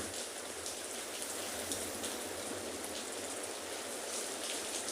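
Steady rain falls on a penguin beach, a dense, even hiss of drops on the surface with no voices, continuous and moderately loud.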